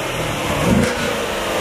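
Car engine revving, a close, loud mid-pitched engine note that swells briefly into a quick rev and settles back to a steady drone.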